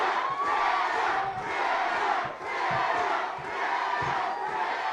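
A crowd at an MMA fight in a women's bout cheering and chanting, loud continuous roaring with swelling rhythmic waves of shouts, heard alone without commentary.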